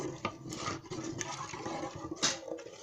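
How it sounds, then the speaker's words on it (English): Potash and red palm oil stock being stirred into a paste for abacha, African salad, gives a steady wet sloshing and scraping that runs close and continuous, with a few sharper splashy accents. "I have to stir it very well to make this paste."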